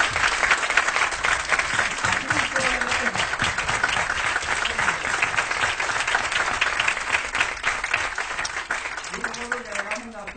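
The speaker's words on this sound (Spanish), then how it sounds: "Le da una calurosa aplauso al padre Morán" Sustained, dense applause from a large crowd, steady and loud throughout, with a few voices faintly audible beneath the clapping.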